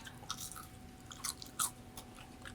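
Crisp crunching of fries being chewed, a handful of sharp bites breaking through a quiet background, close to the listener; the fries hit a stainless surface.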